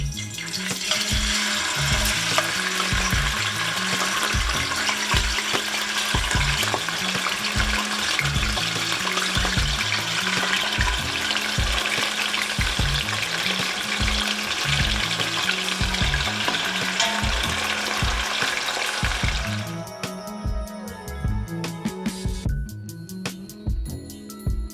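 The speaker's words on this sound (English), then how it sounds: "we're just gonna go straight into that hot pan" Goat meat sears in a hot pan with a loud, steady sizzle and crackle, close and continuous, beneath a repeating rhythmic music beat, before the sizzle drops away near the end.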